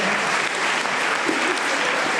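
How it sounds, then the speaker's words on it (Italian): Steady applause from a conference audience, dense clapping that holds evenly throughout without a break. "Molto bene, facciamo un applauso"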